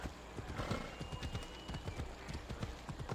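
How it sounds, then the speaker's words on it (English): Horse hooves clip-clop in a steady, quick rhythm in the video game Assassin's Creed Odyssey, moderately loud and close, with a faint game ambience beneath. "Here comes my horse."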